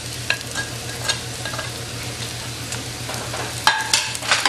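Onions roast in a pan for chutney with a constant sizzle, while a utensil scrapes and stirs them in repeated close strokes, the clatter growing louder near the end, with no talking.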